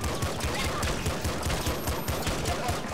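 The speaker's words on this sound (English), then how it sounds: "This is a flame cannon. I'll shoot a few of those in there." Flame cannon firing in the Nuclear Throne video game, a dense continuous roar of rapid bursting shots that stays loud and steady throughout.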